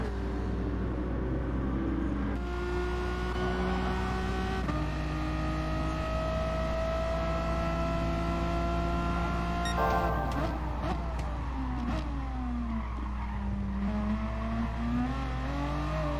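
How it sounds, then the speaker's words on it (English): A Dodge Viper race car roars continuously in the GT Sport racing game, its engine note rising and shifting steadily through gear changes at high speed, loud and constant throughout. "Get a really good run on that Viper right there."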